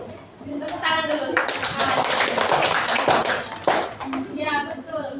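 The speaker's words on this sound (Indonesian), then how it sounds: "Tepuk tangan dulu." Students in a classroom clap their hands together in a burst of steady applause lasting several seconds, with voices talking over and around the clapping.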